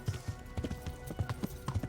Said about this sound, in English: Like the horse doesn't want to go gallop anymore.